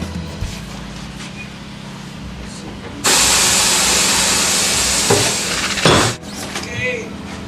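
Air rushes out of a car tire in a loud, steady hiss that starts abruptly, holds for about three seconds and then cuts off, set against a low engine-like hum with brief talk nearby.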